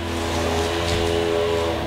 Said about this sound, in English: they're weed eating and mowing my lawn, so sorry about the noise